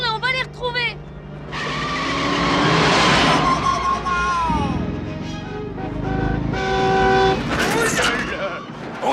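A car in a French fantasy musical comedy film swerves through a U-turn with screeching tyres and blaring horn blasts, loud and close, mixed with engine roar, music and shouting voices.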